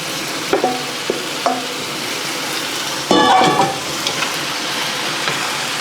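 Chicken afritada with potatoes and carrots being stirred in a pan, soft steady sizzling with a few scattered spoon clinks and a brief louder scrape midway, no talking.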